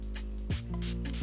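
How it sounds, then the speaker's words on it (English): A hand-pumped spray bottle misting a natural moisturizing product onto bleached locs, giving a few short hissing bursts close by, alone without talk. "It's kind of hard to spray."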